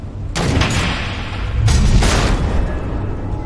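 Missiles explode in the Telltale Batman video game, two loud booming blasts with a rumbling roar that carries on between them.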